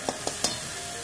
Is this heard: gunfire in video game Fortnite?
no